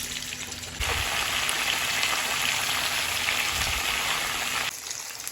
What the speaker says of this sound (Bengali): যতক্ষণ মাছগুলো ভাজা ভাজা হচ্ছে